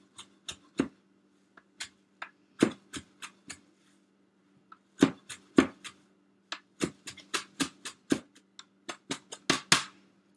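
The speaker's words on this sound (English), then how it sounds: "chop up your herbs without chopping your fingers" A knife chops fresh herbs for chimichurri on a cutting board, sharp irregular taps in quick clusters with brief pauses, close and fairly quiet over a faint background hum.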